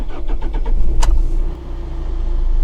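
Tata Nexon with 100,000 km on it cranking on its starter in a rapid rhythmic chug before the engine catches with a sharp burst, then settles into a low steady idle, heard close with no talking.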